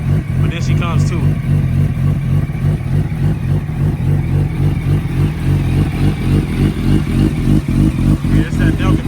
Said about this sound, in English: Does idle a little weird now that I put these pipes on.